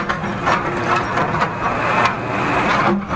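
A Tata JD 315 E backhoe loader engine runs steadily on EB pipeline work, giving a continuous rough drone with no voices over it.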